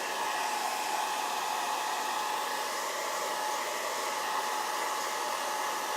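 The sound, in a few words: hair dryer on cool setting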